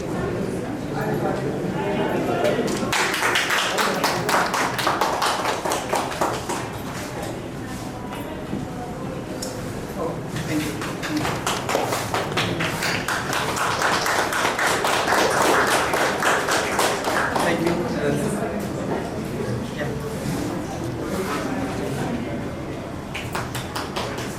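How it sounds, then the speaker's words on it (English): Sustained applause from an audience at a writers' gathering in a Bhubaneswar cafe, dense clapping swelling in waves across the whole stretch with crowd noise mixed in. "You can clap a bit more, guys"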